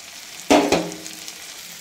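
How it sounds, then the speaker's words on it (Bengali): Chopped tomatoes fry in a pan for paneer bhurji: a sharp sizzling burst as they are stirred, a second smaller crackle, then a quiet fade. "টমেটো আমার 2 থেকে 3 মিনিট ভাজা হয়ে গেছে"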